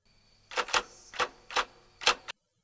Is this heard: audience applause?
no